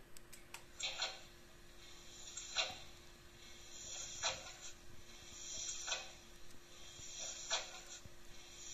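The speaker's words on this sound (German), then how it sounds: "Die Wasserpumpe." Water pump sound function of a Märklin H0 model steam locomotive, a faint rhythmic ticking and hissing pulse that repeats about every one and a half seconds over a steady low electrical hum.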